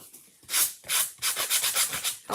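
Sandpaper rubs back and forth over painted wood winter decor, taking the top coat off. The strokes are quick, close and rhythmic, about six of them, and each is a dry, raspy scrape with short pauses between.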